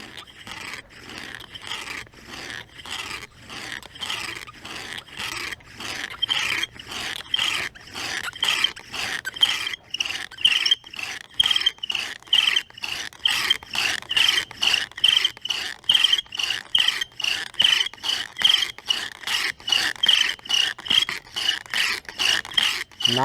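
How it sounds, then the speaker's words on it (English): A bow drill spindle grinds into a wooden hearthboard, giving a steady, rhythmic rasping scrape with each back-and-forth stroke, close and fairly loud, building in intensity over the strokes, with no talking. "I'm just letting that spindle seep into the hearthboard and it's building material."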